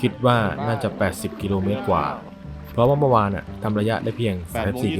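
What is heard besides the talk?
None of the usual background noises is heard.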